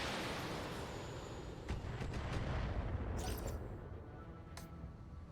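Mech weapons in Battletech fire in a muffled volley: heavy rumbling booms with a few sharper cracks and hisses over a dense low roar, moderately loud and with no talk.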